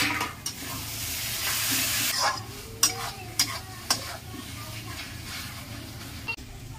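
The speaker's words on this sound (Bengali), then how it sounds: "10 মিনিট মতন একটু কষিয়ে নেব, লো টু মিডিয়াম আঁচ" Masala for chicken frying over low to medium heat, a close, steady sizzle with a few sharp spoon scrapes and clanks against the pan, and talking faintly underneath.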